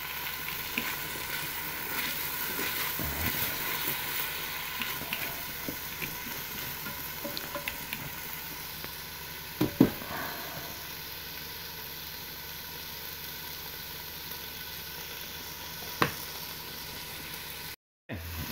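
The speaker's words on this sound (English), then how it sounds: "Just trying to get a little color to the onion." Onions and garlic frying in a Ninja Foodi, a steady low sizzle and hiss that runs the whole time, with a few faint clicks of stirring. The cooking is close by and nobody speaks over it.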